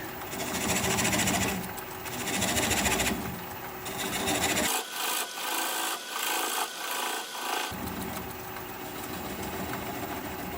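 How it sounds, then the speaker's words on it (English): A swept-back bowl gouge cutting sea grape wood on a lathe turning at about 400 RPM, a loud continuous scraping hiss with steady motor drone underneath, shifting in tone midway, close and without talk. "I'm going to switch to a swept-back bowl gouge and just keep working it away"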